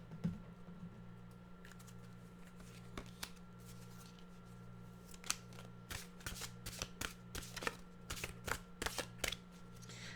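Cards being shuffled close up, a run of quick crisp riffling bursts that grow denser toward the end over a low steady hum.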